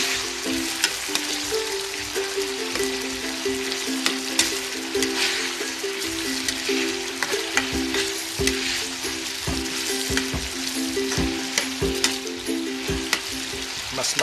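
Corned beef fries in a pan with a steady close-up sizzle. Repeated scraping and clacking come from a utensil stirring the meat.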